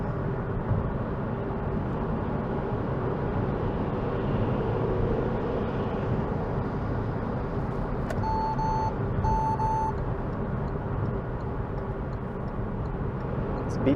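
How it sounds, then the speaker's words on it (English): Inside a car driving through Toronto on a winter weekday morning, the steady engine and road hum carries on throughout while a short series of electronic proximity-sensor beeps sounds briefly near the middle as the car passes a truck. "Beeping saying you're not past the truck enough."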